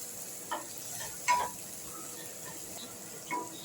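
Vegetables and spices with cumin and fresh ginger being fried and stirred in a pan for a vegetarian dalia khichdi, giving a faint, steady sizzle with a few soft stirring scrapes and clinks.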